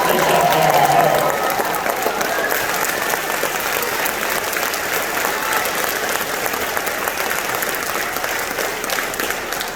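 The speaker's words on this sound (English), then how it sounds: "let's give them one more round of applause" An audience at an 8th grade recognition ceremony gives a continuous round of applause, steady and full throughout, with a brief voice near the start.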